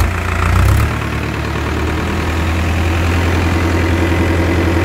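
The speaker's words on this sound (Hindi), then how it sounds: "तो ट्रैक्टर की आवाज़ सुनिए आपने" A 2019 Farmtrac 6055 T20 diesel tractor engine idles loudly and steadily up close, with a brief rise in revs near the start before settling back to a constant rumble.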